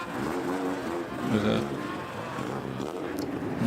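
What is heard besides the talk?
4-door 140J car with big fat exhaust in parade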